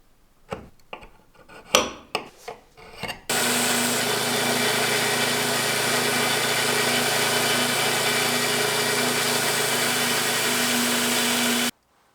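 A woodturning parting tool has its tip ground into a diamond shape on a bench grinder, first a few scattered knocks and taps, then a loud steady whirring grind with a constant hum that runs unbroken for about eight seconds before stopping abruptly.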